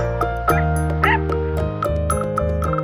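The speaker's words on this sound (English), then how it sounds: "Dog. D-O-G. Dog." A dog barks several times in short, sharp bursts, close and clear, over a steady musical backing.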